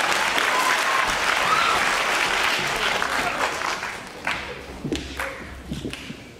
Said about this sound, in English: give him a round of applause and enjoy his music